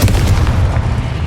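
Confringo blasting spell from the video game Hogwarts Legacy, a deep booming explosive burst with rumbling low-end that fills the moment, loud and close, with no voices over it.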